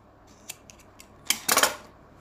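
Scissors snip through fabric while trimming a Punjabi suit neckline, giving a few light, quick clicks and then two louder, longer cuts close by in a quiet room.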